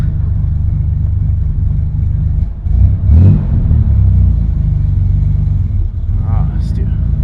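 A 1965 Corvair engine rumbles loudly and steadily as the car pulls ahead, with a brief rise in revs partway through and a faint voice briefly over the drone.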